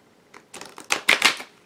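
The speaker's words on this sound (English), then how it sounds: "let me see ripple shuffle here" A quick ripple shuffle of thin oracle cards, a soft flutter building into a brief rapid riffle, close up and alone.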